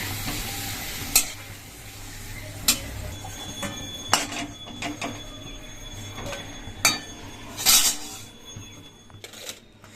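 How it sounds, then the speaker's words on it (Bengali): Papad frying in a pan at home sizzles steadily, with sharp clinks and scrapes of a utensil against the pan every second or two. "মানে পাঁপড় ভাজবো"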